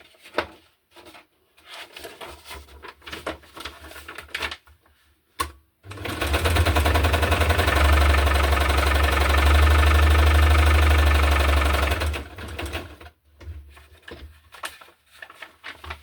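A sewing machine stitching pages of a hardcover junk journal in green and blue, one loud continuous run of about six seconds, with quieter handling rustles and clicks before and after.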